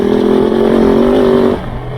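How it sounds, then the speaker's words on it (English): A Kove 450 Rally motorcycle engine gives a loud, close, throaty induction drone for about a second and a half, then drops abruptly to a lower idle. "you can hear it's got a very throaty induction noise"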